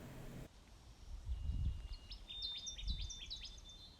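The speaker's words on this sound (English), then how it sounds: "Connecticut warbler." A Connecticut warbler sings in forest habitat near Onion Lake: repeated bright, rising chirpy phrases ring out at moderate distance over low rustling and faint background noise, with no talk.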